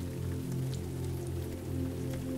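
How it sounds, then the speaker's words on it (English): Falling rain patters softly and steadily as a quiet ambient bed, with a low sustained hum beneath the scattered light drops. "a soundtrack of falling rain and a crackling fire usher you to sleep"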